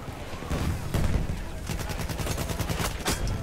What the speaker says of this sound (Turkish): Karşıdan sniperlar sıkmaya başlamış bile.